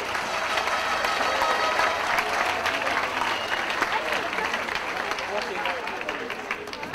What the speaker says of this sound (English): Let's give a huge round of applause for the EMHA and MHA.